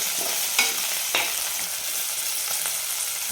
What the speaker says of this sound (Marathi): तेलामध्ये फ्राय करून घ्यायचे